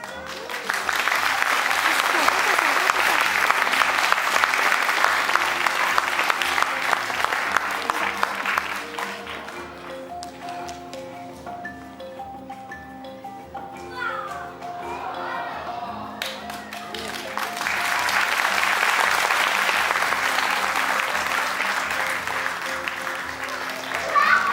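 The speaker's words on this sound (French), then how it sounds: "J'aimerais un petit peu plus d'applaudissements pour celle-là." Audience applause swells loudly at the start, fades to a quieter stretch with tones and murmuring in the middle, then rises again in a sustained wash of clapping toward the end.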